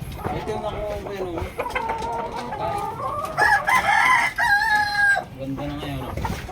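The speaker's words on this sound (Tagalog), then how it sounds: "Nasa rooftop ang manok niya." A fighting rooster kept on a house rooftop crows loudly and close, with a long drawn-out call in the middle among shorter clucks and other birds, while someone speaks faintly in the background.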